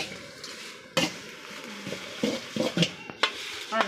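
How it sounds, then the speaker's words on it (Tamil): Dried chillies dry-roasting in a pan for homemade chilli powder, stirred with a spoon that scrapes and clinks against the pan in several separate strokes, close and fairly loud over a soft continuous background. "அதனால் தீயை விடாமல் வறுத்துக்கோங்க."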